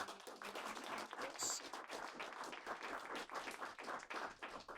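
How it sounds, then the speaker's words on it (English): Steady round of applause from a seated audience at a tech presentation, moderately loud clapping throughout with no pauses. "Can we get one more round of applause for all?"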